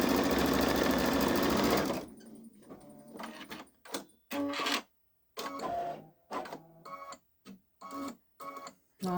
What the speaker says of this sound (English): Kind of fun to see the lines that I drew stitching out.